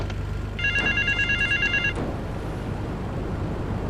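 An electronic telephone in the video game GTA 3 Definitive Edition rings in a rapid warbling trill for about a second and a half over a steady low hum and background noise.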